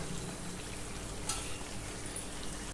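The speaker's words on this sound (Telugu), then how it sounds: "అంటే కరివేపాకు కొంచెం వేగనివ్వండి." Curry leaves frying in a small amount of oil with about 1.5 kg of chicken, a steady close hiss and crackle of sizzling that runs evenly without pause.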